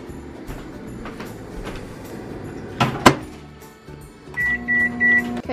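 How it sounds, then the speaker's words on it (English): A microwave hums steadily in a kitchen, with a few clicks and clunks, then ends in a series of repeated high beeps. "And microwave."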